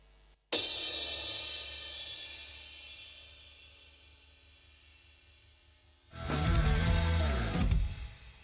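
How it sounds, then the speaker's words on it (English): A Paiste 20-inch Rude Basher cymbal crashes hard once and rings out in a long fading wash, then a second loud crash with a dense, trashy roar hits near the end, close and with no talk. "20-inch Rude Basher here on my right for those big accents."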